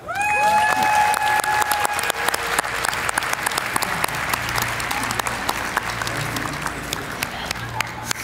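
A large crowd applauds loudly and continuously at the Slush 2024 startup pitch competition final as the prize check is brought on stage. A brief rising musical sting opens it, then dense, steady clapping fills the hall.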